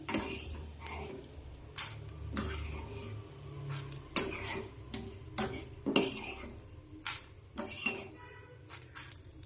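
Roasted chutney ingredients scraped from a pan onto a plate in a home kitchen, a quiet series of sharp metallic clinks and scrapes from a spoon at irregular intervals over a low background hum.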